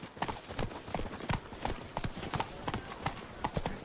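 Horse hooves clip-clop in The Witcher 3 video game, a quick steady trotting rhythm of hollow hoof beats over a faint game background, fairly near and with no talk.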